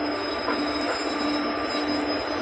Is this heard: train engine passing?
yes